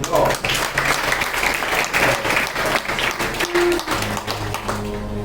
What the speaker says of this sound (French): Applaudissez Naphtali.